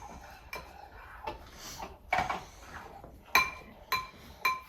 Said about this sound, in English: Can you stir that all up for me?